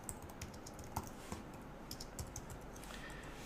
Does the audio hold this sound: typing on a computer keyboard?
yes